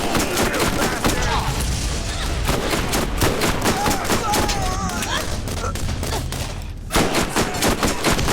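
Rapid gunfire from a first-person shooter in Borderlands Remastered, a continuous loud barrage of shots and impacts with game effects layered over it and no gaps across the stretch.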